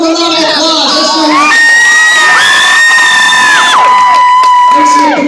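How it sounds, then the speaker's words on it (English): A school crowd of children cheers, whoops and shouts loudly at a BMX show, a dense, sustained roar of young voices filling the space with high yells rising above it. "give him a round of applause"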